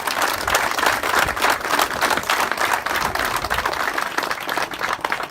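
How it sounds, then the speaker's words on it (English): A crowd claps steadily in warm, sustained applause for a Korean and Vietnam War veteran at a B-25 Mitchell bomber visit, lasting several seconds, dense and fairly close. "let's give him a round of applause"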